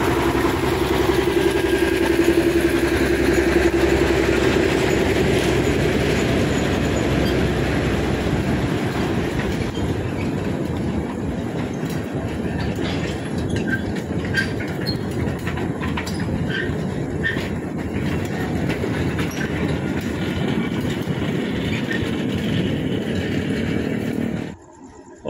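A sugarcane train locomotive passes at night at Semboro sugar mill on a line through dense housing, loud close engine rumble and wagon clatter sustained for the whole stretch, with clickety-clack rhythm building before cutting off abruptly at the end.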